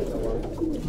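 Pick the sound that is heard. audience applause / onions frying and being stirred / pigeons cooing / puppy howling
pigeons cooing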